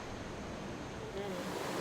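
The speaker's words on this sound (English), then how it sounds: "A little bit loud behind me, but I'm sitting in front of one of the falls" A steady, broadband rush of a waterfall on the Ottawa River fills the clip, loud and close, with no pauses or other distinct sounds.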